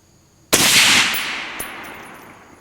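A single sharp, loud rifle shot from a 6.5 Creedmoor Night Stalker Precision AR-10 with a carbon barrel, fired outdoors during accuracy testing, followed by a long rolling echo and a faint clink.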